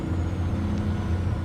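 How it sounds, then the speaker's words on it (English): A loud truck with a Cummins engine in American Truck Simulator, driving a Peterbilt 379 or 389 on a heavy long haul, with a deep, steady engine drone and rumble throughout. "This truck is super loud, man. I got the Cummins in here."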